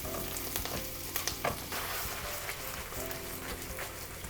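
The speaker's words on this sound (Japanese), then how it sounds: "でバター溶かします。" Butter melts and sizzles in a hot pan with soy sauce for garlic butter soy sauce pasta, a steady close crackle with small pops and no voices.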